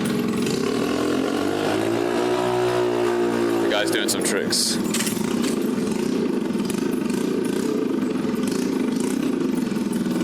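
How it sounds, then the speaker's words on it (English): A small scooter engine drones loudly nearby, its pitch sweeping as it revs up and down, while someone talks over the noise. "It's really loud. And it's not even like an impressive motorcycle. It's just a small little scooter."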